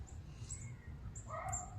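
Birds flying low nearby give a few short calls and a harsher cawing cry close by, brief and intermittent over a low rumbling outdoor background.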